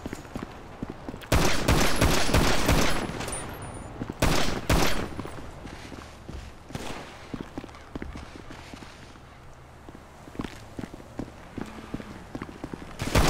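Grand Theft Auto V gunfire in a shooting contest: loud clustered shots early on, then scattered sharp reports and clattering over a steady game background, with no one talking over it.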